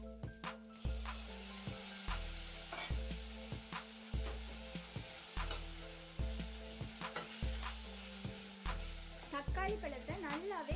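Tomatoes fry with ginger garlic paste in a pan, a steady close sizzle broken by regular stirring scrapes and clanks of the spoon against the metal.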